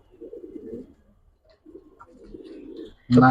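Giribaz and colouring pigeons in a loft give soft, low coos in two short bouts, fairly close and quiet, before a sudden louder burst of noise at the end.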